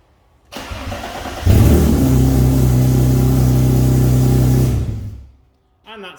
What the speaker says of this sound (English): that's how loud it is without the exhaust silencers on